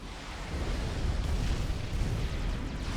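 T4 artillery shells fall in a strategy video game, producing a dense, continuous rumbling roar of blasts that runs unbroken and fairly loud throughout.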